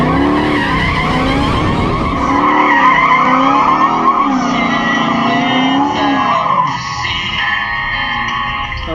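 A Dodge Challenger Redeye launching at a nighttime drag race, its engine wailing up through the gears with loud, sustained tire squeal, close and powerful.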